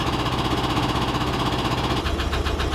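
Air-cooled engine of a 1974 Volkswagen Westy Deluxe camper, run after sitting for about three months, chatters steadily with a rapid mechanical ticking from the lifters, loud and close with no talking.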